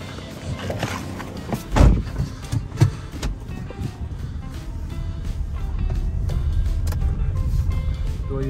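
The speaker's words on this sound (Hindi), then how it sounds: "लो जी गाड़ी हमने निकाल ली है" A car pulls out and drives off, starting with a few clunks and knocks, then a steady engine and road rumble that builds and holds to the end, close by.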